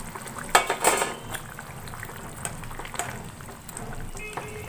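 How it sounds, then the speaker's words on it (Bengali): Papaya curry with fish and potatoes bubbling in a pot on a gas flame: a steady low simmer, with a few sharp clinks and splashes early on. "আমার পেঁপের ঝোল কিন্তু ভালো মতো ফুটে গেছে"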